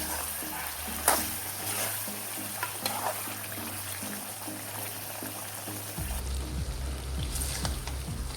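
Dry chicken curry made with pasted tomatoes and no onion sizzles steadily in a pan, with a spoon scraping and stirring through it, and a louder, thicker fry takes over near the end.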